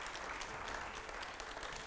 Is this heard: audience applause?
yes